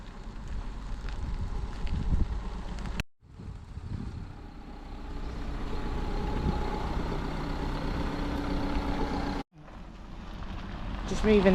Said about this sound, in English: Just moving the van into the sun so we can dry everything before we go.